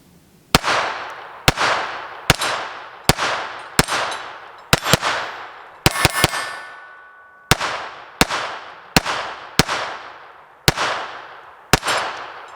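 A KelTec P17 pistol fires Remington Thunderbolt rounds in about fifteen sharp, evenly spaced reports, each with a short ringing decay, plus a quick cluster of clinks midway, all up close with no talking.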